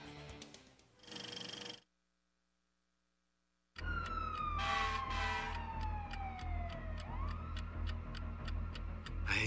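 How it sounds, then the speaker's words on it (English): Sirens in a heist movie trailer, a falling electronic wail with ticking beats and dramatic low swells, after a brief silent gap. "I hate sirens."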